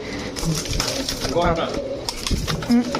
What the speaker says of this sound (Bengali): পাকিস্তানি সব কবুতরের চাইতে বড় সাইজের কবুতর